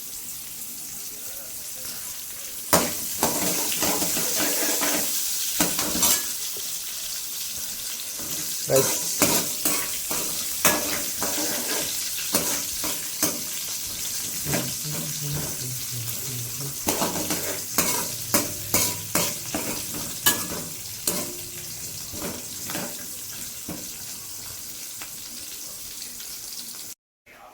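Tempering (oggarane) sizzling and frying in a pan in a home kitchen, with repeated stirring and scraping clatters of a utensil against the pan, moderately faint, with brief speech and occasional tap water noise.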